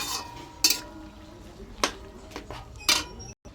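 Leafy greens (saag) being stirred into a curry in a pot, with several sharp spoon-on-pot clanks and scrapes spaced across a quiet kitchen background.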